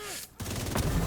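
Video game gunfire while shooting elite enemies, a rapid burst of rattling shots that cuts out briefly and then resumes in a dense volley.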